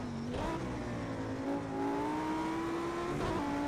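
Audi R8 road car in Project Cars 2 lapping Bathurst, the engine dipping on a downshift and then climbing steadily in pitch under hard acceleration, loud and close throughout.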